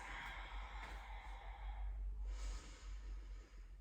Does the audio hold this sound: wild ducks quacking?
no